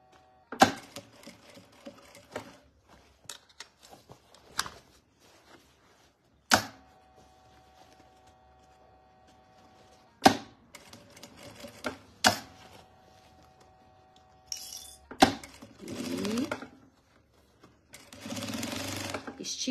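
A sewing machine stitches fabric for a mini bag in short separate runs with quiet pauses between them, plus a few sharp clicks and the rustle of handled cloth, no speech.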